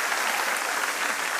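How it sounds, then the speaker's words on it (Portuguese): Steady audience applause on a comedy show set, dense clapping filling the whole moment at an even, fairly close level with no voices over it. "uma pessoa aplaudiu. Obrigada, agora todos."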